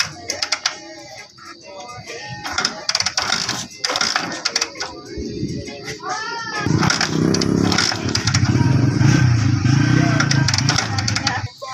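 A small motorcycle with a no-start fault is kicked and cranked among clattering workshop handling noises, then catches and runs with a rough, uneven, close-up engine drone for the final few seconds.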